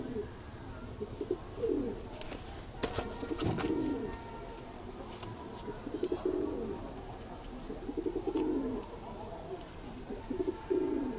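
Pigeons coo repeatedly in a loft where a keeper holds a breeding pair, soft rolling calls recurring through the clip over faint background noise, with a few sharp clicks.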